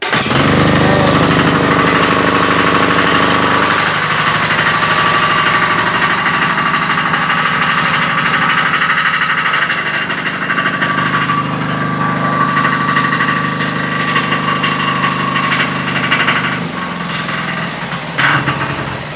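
A hand-cranked 7 hp diesel engine on a mini power tiller runs loud and close throughout, a steady rapid chugging rattle with metallic vibration and no voices.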